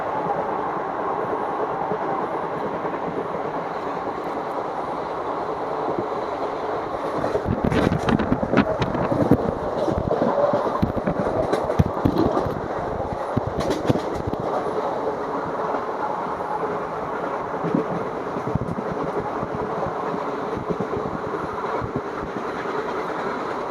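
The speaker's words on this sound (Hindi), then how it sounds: "सामने से कोई तो ट्रेन आ रही है, देखते हैं कौन सी है।" A train approaches and passes on a rail line near Ghaziabad, on the Mathura–Delhi route, at about 130 km/h. A steady rumble swells into loud clattering wheels and rushing wind, then settles back into a continuous roar.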